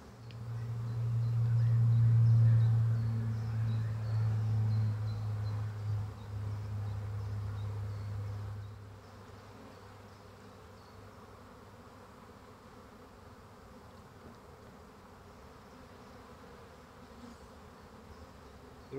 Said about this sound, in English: It always takes a while for bees to settle into a new hive. There's a lot of fanning going on